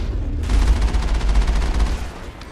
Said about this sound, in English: stay in the Mako to be safe and blast the shit out of them with my cannon